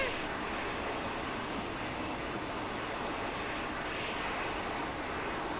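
An aircraft engine drones at low level after landing during a military airsoft-style operation, a faint, steady broadband roar without clear change over the stretch.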